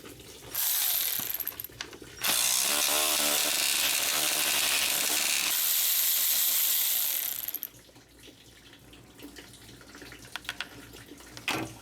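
Power ratchet undoing a bolt that holds the AC condenser to the radiator of a 2008 Mercedes GL320, a loud, close, sustained mechanical whir lasting several seconds before cutting off to quieter workshop noise.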